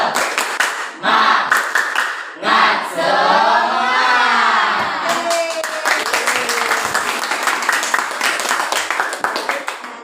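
A classroom of children claps a rhythmic spirit clap in quick bursts and patterns, loud and close, with voices chanting along between the clapping.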